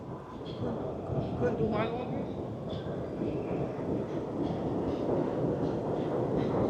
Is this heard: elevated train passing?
yes